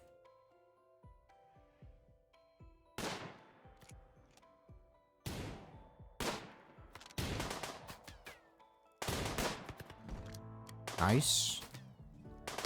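RimWorld gunfire sounds as a series of sharp, loud shot cracks spaced irregularly, some in quick clusters, with a player's voice speaking briefly among them.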